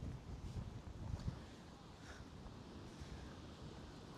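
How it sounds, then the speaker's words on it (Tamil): Strong coastal wind at Taroko in Taiwan buffets the microphone in a steady low roar, gustier at the start, with a faint hint of surf beneath. "நீங்கள் பாருங்க காற்று அப்படி அடிக்குது காற்று"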